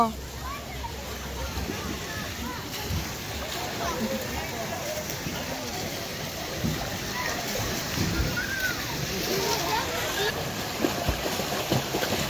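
Continuous splashing and sloshing water close by as a child swims, with voices talking over it throughout.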